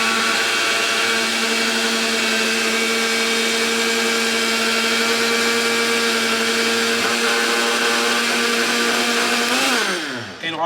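A kitchen blender runs steadily at high speed for about ten seconds, liquefying ingredients for poutine with a loud, dense whir, then winds down as its motor pitch drops at the end.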